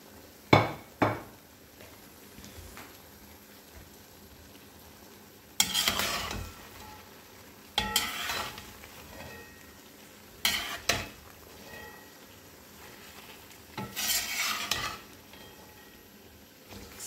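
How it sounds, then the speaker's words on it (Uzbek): Carrots and onions fry together in oil for plov, giving a soft continuous sizzle broken by several loud scraping bursts as a spatula stirs the pan at irregular intervals, with no voices. "Sabzi ham yaxshi qovurilish kerak"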